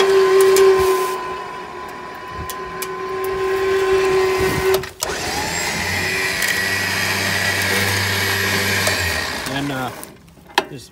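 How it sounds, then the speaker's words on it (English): A Badland 12000 lb electric winch runs up close with a steady, fairly quiet motor whine and hum, changing pitch midway as it keeps pulling, then winding down near the end. "It's a pretty quiet winch."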